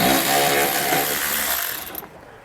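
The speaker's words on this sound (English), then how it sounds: "There's a nut here at the top. And we're gonna use a 10 millimeter socket on." A power tool whirs loudly and steadily as a 10 millimeter socket spins a nut off a bumper bracket on a 2016 Mercedes-Benz GLE, then winds down and stops near the end.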